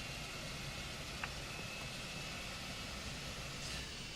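In Microsoft Flight Simulator 2020, the engines of a PMDG 777 spool up into a steady broadband roar with a thin whine and a faint tick, holding constant throughout with no talking.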